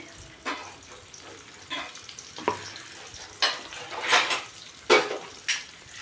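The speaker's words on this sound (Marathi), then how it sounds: "तिथं त्याच कढईमध्ये आपण तेल टाकलं मी आणि तिथं बारीक चिरलेला एक कांदा टाकून घेत आहे" Finely chopped onion frying in oil in a kadhai, a steady soft sizzle broken by several scraping stirs of a spoon against the pan, close and fairly quiet.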